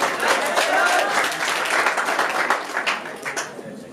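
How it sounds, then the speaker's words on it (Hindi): Audience applause at a school farewell event for teachers: dense, sustained clapping from a nearby crowd that swells and then begins to thin and break up toward the end. "आप लोग एक बार जोरदार ताली बजाए"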